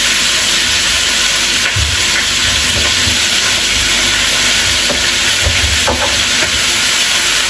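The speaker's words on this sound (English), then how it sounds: "You want to steam it with a little bit of oil" Pepper sauce steaming with a little oil in a pot, a loud, steady, dense hiss and sizzle running throughout with faint low bubbling thumps underneath.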